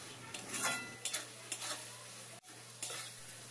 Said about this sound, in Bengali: এখন এই সব মশলাগুলো মাছের তেলের সাথে কষিয়ে নেব।